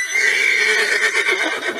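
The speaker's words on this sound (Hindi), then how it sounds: "इसके बाद घोड़ा चलना शुरू कर देता है।" A horse neighing in an Indian village, a loud, close whinny with a shrill, wavering pitch that falls away, followed by faint movement as the animal begins to walk.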